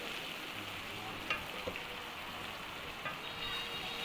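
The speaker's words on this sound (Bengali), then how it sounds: "ভাজা প্রায় শেষের দিকে" Rohu fish fries in a pan near the end of cooking, with a steady, hissing sizzle and a few sharp pops. It is close but fairly quiet, and nobody talks over it.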